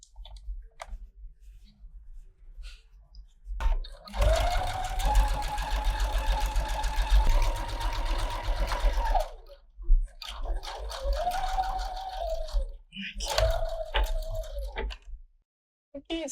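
A sewing machine stitches pajama-top fabric along an earlier stitch line, starting with one long whirring run and then two shorter bursts separated by brief pauses, all close and clear.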